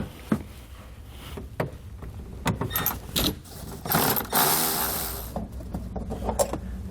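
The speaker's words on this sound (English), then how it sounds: "a plastic nut here, which we'll take out with a 10mm socket" Ratchet with a 10mm socket working a plastic nut on a 2018 Jeep JL Wrangler: close, quick clicking and mechanical rattles in irregular bursts, some louder fumbling in between.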